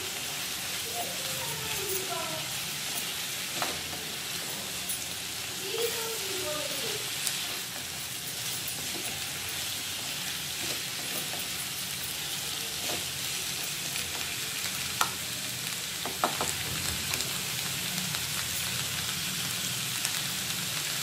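Drumsticks frying in a pan for a coconut milk curry, a steady soft sizzle and crackle with occasional spoon scrapes and clinks, faint and continuous with no talk.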